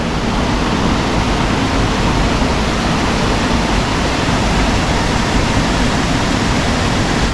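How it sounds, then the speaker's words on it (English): Paint Creek rushes loudly beneath a railroad trestle, a close, steady roar of churning water that fills the whole stretch without a break. "Pretty loud down here, all that water."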